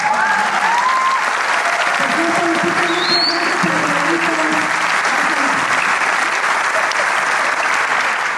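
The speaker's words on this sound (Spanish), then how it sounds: "si se vean contentos nos regalarían un aplauso" Loud, sustained applause from a large audience at a gala concert of student tuna music groups in Xalapa, steady clapping filling the whole stretch with no pauses.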